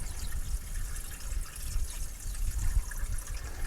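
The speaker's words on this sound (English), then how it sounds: "We'll just top it off with water here for now." Water pouring into the radiator of a Dodge Power Wagon, a continuous close trickling and splashing with a steady low gurgle, fairly loud and alone throughout.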